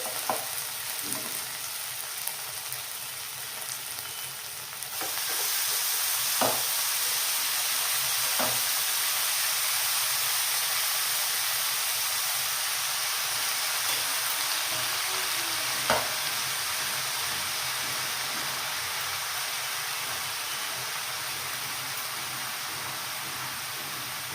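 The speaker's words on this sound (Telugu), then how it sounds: "పాలకూర వేసుకొని ఒకసారి కలిపేసుకోవాలి." Spinach sautés in a pan with ginger-garlic paste, giving a broad, even sizzling hiss that jumps louder after a few seconds, with occasional faint scrapes from stirring and no speech.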